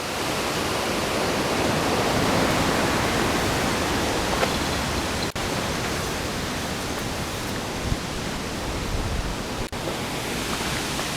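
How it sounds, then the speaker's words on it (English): A river runs steadily past a village, its water rushing in a constant, dense, close-up wash with no pauses, heard alone without any talking. "You're a part of Earth now, and part of this wonderful river that runs and provides water for the whole entire village"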